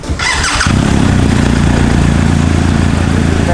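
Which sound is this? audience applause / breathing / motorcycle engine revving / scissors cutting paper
motorcycle engine revving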